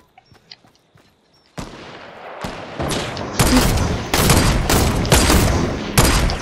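Fortnite gunfire crackles in rapid bursts, a dense run of sharp, loud shots that starts after a few quiet clicks and keeps going steadily for several seconds.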